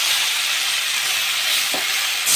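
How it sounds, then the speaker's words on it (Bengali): Loud, steady hissing sizzle of prawns and taro (gathi kochu) frying in a pan as water is poured in, a continuous bright rush of steam close up with a slight flare near the end. "তো এবার এর মধ্যে আমরা পরিমাপ মতো জল দিয়ে আমরা এটাকে ভেজে শুকিয়ে দেবো।"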